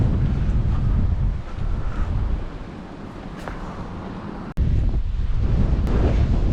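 Strong wind blows against a tent on a wet night, a loud continuous roaring buffet that dips briefly, drops out for a moment, then surges back just as hard.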